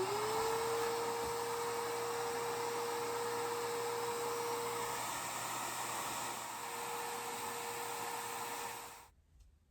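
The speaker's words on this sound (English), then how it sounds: "I'm going to go ahead and vacuum over here" A vacuum cleaner runs steadily across the floor of a cheap fixer-upper under renovation, a continuous loud whining hiss with a high motor tone that holds for several seconds, then cuts off near the end.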